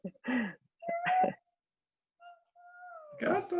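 A pet cat meows several times up close: two quick meows, a pause, then a longer rising and falling meow. A voice overlaps the last call.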